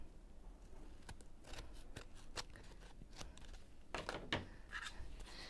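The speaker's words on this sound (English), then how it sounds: "then we can trim away any excess" Scissors trim excess card in a series of quiet, crisp snips at an irregular pace, with a cluster of sharper cuts toward the end and no talking.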